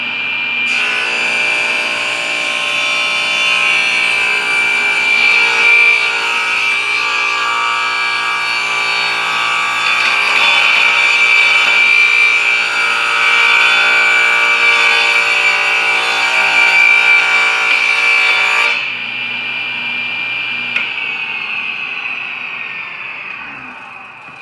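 Table saw ripping wood through a jointing jig, a loud close blade whine under steady cutting for about eighteen seconds, then dropping to a quieter free-spinning hum as the cut finishes.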